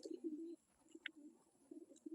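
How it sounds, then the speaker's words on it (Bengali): Giribaz pigeon cooing in low, soft, rolling phrases, broken by a brief pause and then resuming, close by and fairly quiet, with a small sharp click partway through. "একটা মাদি পায়রা আছে"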